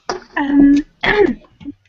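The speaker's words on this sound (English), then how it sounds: "clear my throat" A person clears their throat twice in quick succession, close and loud, with a short vocal grunt at the end.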